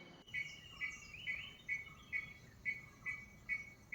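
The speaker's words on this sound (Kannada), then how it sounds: "ಹಕ್ಕಿಗಳ ಚಿಲಿಪಿಲಿ ಅಂತೂ ತುಂಬಾನೇ ಖುಷಿಯಾಗುತ್ತೆ ಬೆಳಗ್ಗೆ ಕೇಳೋದಿಕ್ಕೆ" Morning bird chirping on a farm: a faint, high chirp repeats in a steady rhythm about twice a second over a quiet background.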